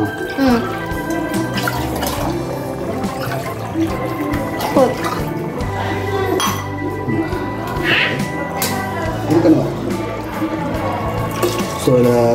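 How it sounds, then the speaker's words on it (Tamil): Water poured from a small vessel into rice for mushroom biryani makes a continuous splashing and trickling, close and moderately loud, with a voice talking throughout. "ஸோ இதில் 2 சொம்பு தண்ணி ஊற்றிருக்கோம்"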